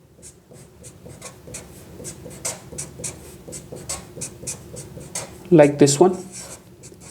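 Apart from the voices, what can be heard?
writing out a chemical structure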